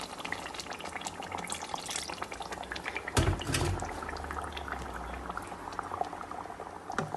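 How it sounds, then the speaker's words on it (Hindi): Half a cup of water poured into a simmering mutton kofta curry in a pan, a sudden splash and rush over steady bubbling and sizzling that continues close by and alone. "ये हम लोग थोड़ा सा पानी आधा कप के करीब डाल देते हैं।"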